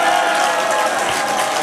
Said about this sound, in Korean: 응원의 함성과 박수를 부탁드리겠습니다.